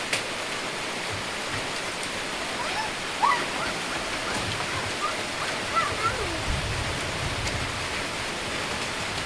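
Steady rain falls in an outdoor rural setting during an evening meal, a dense continuous hiss with occasional faint clinks and small sounds on top, no clear talk.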